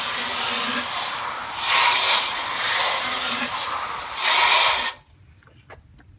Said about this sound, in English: we're going to go ahead and give the tire a rinse